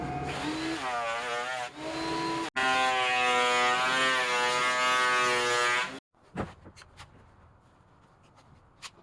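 An electric planer runs loudly over a cedar and epoxy river table, its motor whine shifting in pitch as the blade bogs in still-soft epoxy, then cuts off abruptly, leaving faint clatter and handling noises.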